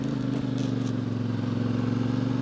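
A CFMOTO 450MT adventure motorcycle rolls slowly along narrow asphalt paths, its engine holding a low, even drone with a faint rhythmic throb and no revving.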